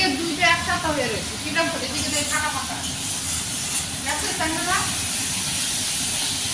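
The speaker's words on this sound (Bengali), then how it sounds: "এখানে মাছ রান্না করছে" Fish curry cooking on a home stove gives a steady steaming hiss, while people talk over it throughout.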